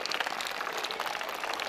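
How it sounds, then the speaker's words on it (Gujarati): Applause from the audience at a school Republic Day program, dense many-handed clapping that runs steadily throughout, moderately loud and without speech. "એમના માટે પણ જોરદાર તાળીઓ પડી જાય."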